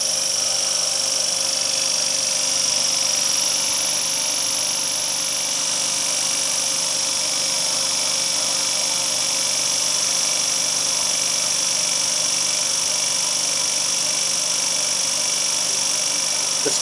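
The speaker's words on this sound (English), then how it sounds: "note down the speed corresponding to 50 Hz on this motor" A three-phase induction motor runs at 50 Hz on an ANSHUMAN XPO-VVVF variable-frequency drive trainer, giving a steady, loud electrical hum with a high whine that holds constant throughout, with no voice.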